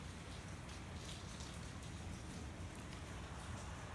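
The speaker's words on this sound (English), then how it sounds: "So, this is the rain." Steady rain during a thunderstorm, a dense, even hiss of drops pattering on surfaces, continuous and fairly soft with no voices over it.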